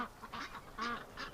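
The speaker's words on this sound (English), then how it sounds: "But the ducks aren't fazed by it." Ducks in a winter enclosure give three close, nasal quacks in quick succession, each a short honking burst with brief gaps between, no talking.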